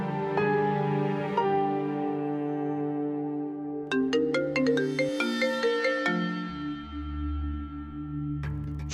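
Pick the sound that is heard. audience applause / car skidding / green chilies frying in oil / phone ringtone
phone ringtone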